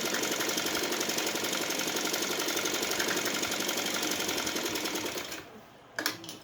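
A sewing machine stitching a salwar seam runs in a fast, even mechanical rattle, close and loud, then slows and stops near the end with a couple of brief clicks.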